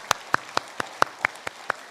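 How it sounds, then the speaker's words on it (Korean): Crisp, evenly spaced claps ring out eight times in a steady rhythm at a Korean church Sunday thanksgiving service, moderately loud in a quiet room. "영광의 박수를 돌리겠습니다"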